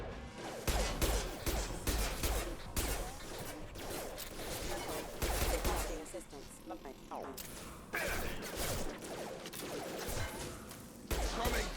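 Gunfire and impacts in the video game Mass Effect 2 come as loud, sharp bursts of shots and crashes in uneven volleys, with brief lulls between clusters.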